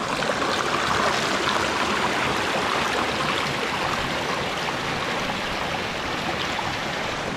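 Water rushing down a rock channel carved into stone on the way to a Crimean waterfall, a dense, continuous splashing roar at even loudness throughout, close by and without voices.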